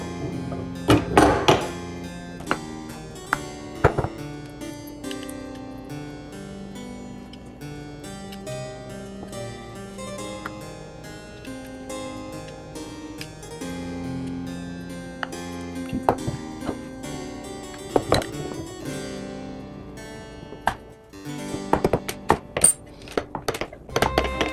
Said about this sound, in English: Might have to use the rubber mallet on this.